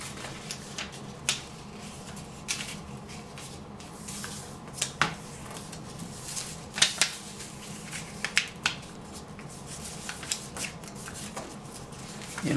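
Paper corners creased and folded inward by hand while making a cootie catcher puppet, a series of soft, close crinkles and sharp little snaps spread unevenly throughout, with no talking.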